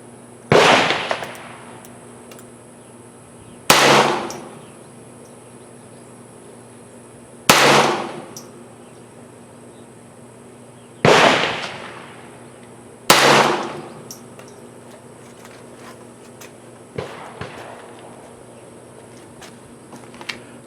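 Five gunshots fired while sighting in a Feyachi reflex sight, each a sharp crack with a ringing decay, spaced several seconds apart and fairly loud outdoors, with faint clicks and handling noises between shots.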